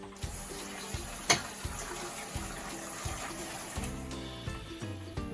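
Sliced potatoes being washed in water for Scottish stovies, with continuous running and splashing water and occasional clunks and knocks in a sink, close and steady without speech.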